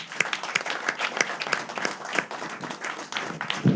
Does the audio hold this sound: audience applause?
yes